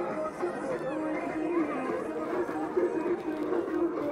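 Steady murmur of a large crowd at a busy outdoor gathering where dancing is underway, overlapping voices forming a continuous, fairly faint background babble.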